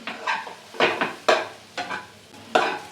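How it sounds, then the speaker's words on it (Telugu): Carrot rice with lemon juice being stir-fried in a pan, five or six distinct scraping, tossing strokes of a spoon against metal over soft sizzling, close and rhythmic. "ఈ లెమన్ జ్యూస్ కూడా మన రైస్కి మొత్తానికి పట్టేలాగా ఇలా ఒక టూ త్రీ టైమ్స్ ఫ్రై చేసుకొని"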